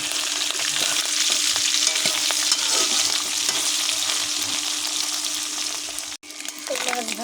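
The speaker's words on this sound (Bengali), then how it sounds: "এক পিসে মাছ ভাজা চার পিসটা দিচ্ছি" Small fish sizzle in a frying pan of hot oil with an even, close crackle, cut off by a brief silence, then followed by light clatter as frying resumes.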